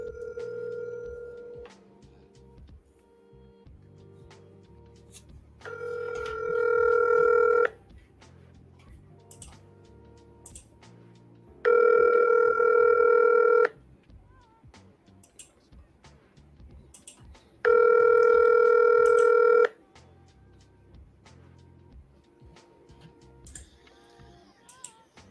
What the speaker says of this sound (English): So we're going to let it ring.